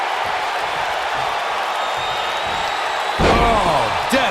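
A Death Valley Driver in the WWE 2K19 wrestling game lands as one heavy ring thud near the end. Steady crowd noise runs under it throughout, and the thud sets off a louder burst of crowd reaction.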